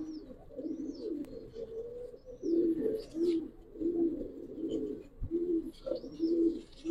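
Giribaz pigeons coo while being handled, giving soft, repeated low cooing phrases close by with a few faint chirps, and no talking.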